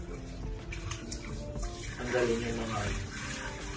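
Tap water runs steadily while dishes are washed in a kitchen sink, a continuous splashing hiss that swells slightly midway, with a person talking over it.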